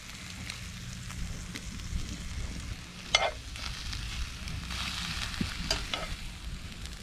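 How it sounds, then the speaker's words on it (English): Steady sizzling and crackling of sausages frying on an outdoor grill at a land-based fishing spot in Wynnum, with occasional sharper pops and spits, fairly close and continuous. "We're going to do a little sausage sizzle here."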